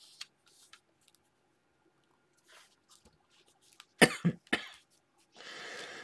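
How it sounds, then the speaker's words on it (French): A short burst of two or three sharp coughs, close and loud, amid quiet rustling and small handling noises, followed by a soft hiss. "Je tousse encore"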